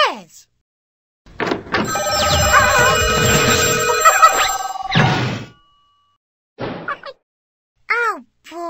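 A telephone rings in a Sesame Street video game: one loud electronic ring lasting about four seconds, followed by short bursts of a cartoonish voice.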